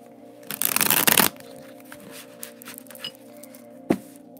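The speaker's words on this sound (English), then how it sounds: "Let's go ahead and shuffle a mass shuffle." A tarot deck gets one loud, close mass shuffle lasting under a second, followed by quieter card handling, a few soft taps and one sharp knock near the end, with no talking.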